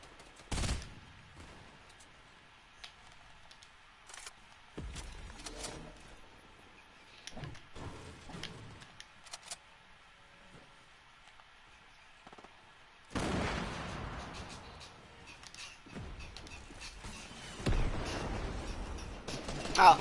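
Gunfire in a shooter video game comes in scattered bursts of sharp shots separated by quiet stretches, with a longer, denser volley near the end, fairly faint and uneven.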